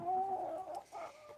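Chickens on a homestead at sunrise cluck in a short, close burst of throaty, warbling calls, followed by a second softer cluck, with no one speaking.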